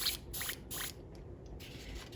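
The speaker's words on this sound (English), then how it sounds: "let's go ahead and start spraying some of this on here." An airbrush sprays paint onto a Pink Horror miniature in a tabletop hobby setting, giving several short, soft hissing bursts separated by brief pauses, quiet and close with no talking.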